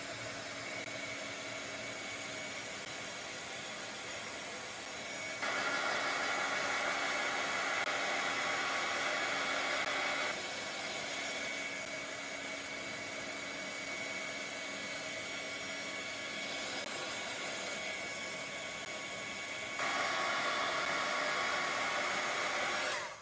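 A hair dryer blows over a wet paper craft tag, a steady loud whooshing drone lasting the whole time, its level stepping up and down as the airflow shifts.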